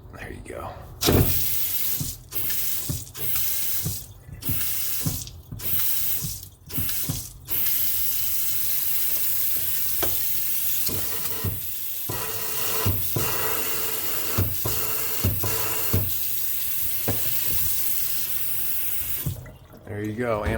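Water running from a newly installed faucet into a sink, a steady rushing stream broken by several brief stops and restarts early on, with handling noises and a person talking over it.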